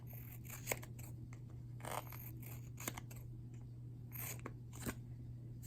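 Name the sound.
scissors cutting paper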